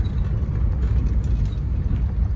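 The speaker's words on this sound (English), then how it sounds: "took a little battery boost to get the old Merc running" An old Mercedes car engine idling steadily after a battery jump start, a continuous low rumble heard close up with no talking.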